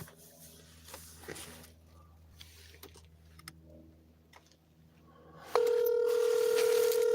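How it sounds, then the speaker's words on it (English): A phone call being placed: quiet handling clicks and faint tones give way to a loud, steady ringback tone that starts abruptly and continues, close and clear, with little else heard. "It's ringing."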